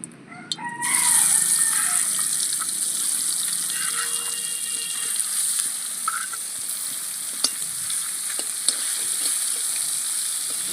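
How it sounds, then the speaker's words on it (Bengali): Spotted snakehead fish cut into round ring pieces sizzle in hot oil in a home kitchen, a steady loud hiss with occasional pops and stirring clinks; a rooster crows faintly in the background. "তেলটা গরম হয়ে গেছে, এবার মাছগুলো ভেজে নেব।"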